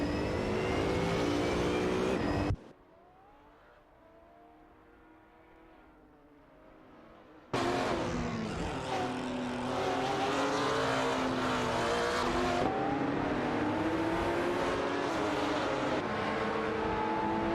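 Engines of GT4 race cars in an AI-driven racing video game roar continuously at high pitch, shifting as cars pass. The loud engine noise drops to a faint drone for several seconds, then surges back, dense and unbroken, with no voices.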